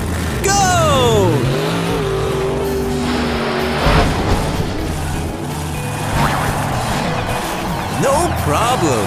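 A cartoon monster truck in a children's math show revs its engine, roars and squeals its tires while jumping three buses. The sound is loud and continuous, with a busy mix of voices and effects.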